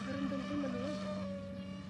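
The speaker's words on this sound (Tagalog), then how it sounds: "Tingnan yung motor ko. Maingay." An outboard boat motor with a loose propeller runs noisily, a steady droning hum with a wavering pitch that rises and dips, heard close and alone without talk.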